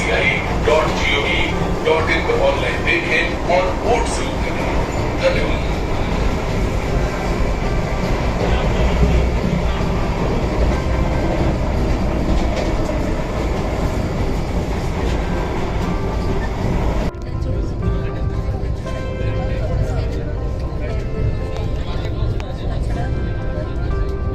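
Inside the Howrah-Puri Vande Bharat Express while it runs, with a continuous loud rumble and rattle of the coach on the rails and a steady rushing hiss that drops in brightness partway through.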